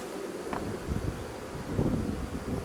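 Honeybees around an open beehive during frame handling give off a faint, steady buzzing hum under soft rustling and light wind noise, with no voices.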